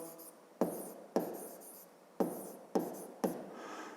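A pen writes by hand while a math problem is noted down, five or six short scratchy strokes spaced unevenly, each starting sharply and fading, close and quiet with no talk.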